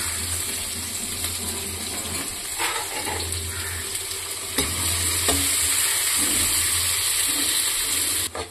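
Chopped onions and green chilies with cumin seeds sizzle steadily in a hot pan, a dense continuous frying hiss close by, with occasional stirring scrapes and the sizzle growing a little louder partway through.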